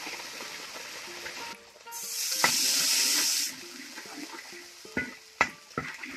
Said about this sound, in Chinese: 加点水给它煮开